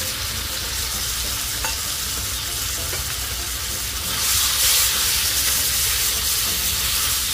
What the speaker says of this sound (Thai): แล้วก็ผัดคลุกเคล้าทั้งหมดให้เข้ากันนะครับเราก็จะผัดแค่ใบกะเพราเราสลบก็พอแล้วนะครับ